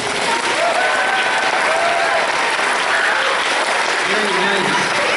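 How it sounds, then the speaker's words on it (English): Elementary school audience applauding fifth graders at a spring school event, loud sustained clapping with a murmur of crowd voices and brief talk over it. "Let's give Mrs. Dillahunt and the 5th graders a round of applause"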